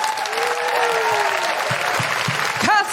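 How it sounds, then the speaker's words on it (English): Live audience applause for three guests at a podcast recording, steady broadband clapping throughout with a whistle-like tone and some crowd noise near the end. "Could we have a huge round of applause for Serena,"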